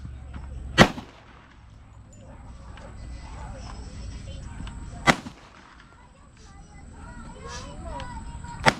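A rifle is fired at a shooting range: three sharp, loud cracks spaced a few seconds apart, with quiet talk and background chatter between the shots.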